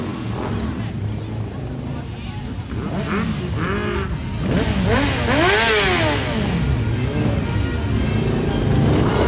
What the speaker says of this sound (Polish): Bardzo liczna jak co roku grupa gdyńskich motocyklistów.